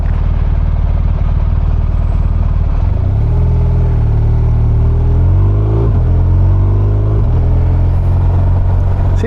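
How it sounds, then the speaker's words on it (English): A motorcycle with a quick shifter heard while riding at low speed: a loud, close engine drone climbs in pitch, with a sharp drop and rise as gears change, and no speech over it. "See, the quick shifter's changing gear lovely."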